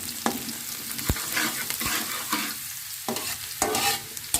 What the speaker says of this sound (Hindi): और साथ ही मैं इसमें लहसुन डाल दूँगी। और इसको मैं हाफ ब्राउन करूँगी।